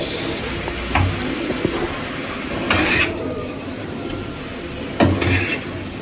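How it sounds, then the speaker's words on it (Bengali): A utensil stirs and scrapes a coconut sandesh mixture in a pan over a gas flame, giving a few sharp scrapes and clinks spaced apart over a steady background hiss, close by with no talking. "এটাকে ভালো করে নাড়তে থাকবে"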